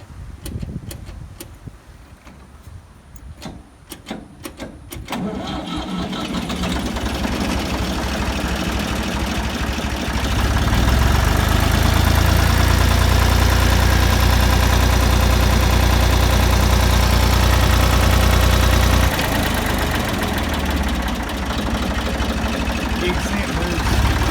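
A Ford 2000 tractor engine cranks with rapid ticking, catches after about five seconds, then runs at a steady, loud idle with a deep, even rumble.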